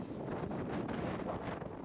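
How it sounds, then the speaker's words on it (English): Strong wind in Estonia buffets the microphone in a continuous, heavy roar that rises and falls in gusts. "It's super windy. Like extremely windy"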